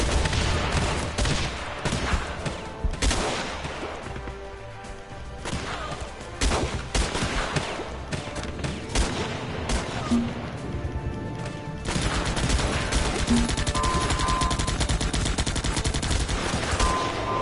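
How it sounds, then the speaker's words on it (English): Gunfire in the shooter game Guns Up crackles in dense bursts and scattered single shots, loud and continuous throughout, with louder sustained firing toward the end. "started shooting back at these snipers"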